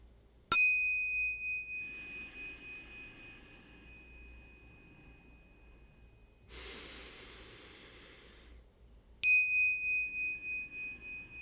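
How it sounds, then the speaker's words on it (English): A Japanese temple bell from Enryakuji on Mount Hiei is struck twice, each bright metallic strike ringing out and decaying slowly, with quiet breathing in the long pause between. "Beautiful bell. from Japan, from the Enryakuji temple on the Mount Hiei."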